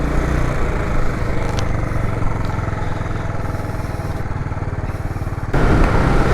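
A motorcycle rides through downtown Los Angeles, its engine a steady close, loud drone with wind and street noise throughout, rising a little louder near the end, with no talking.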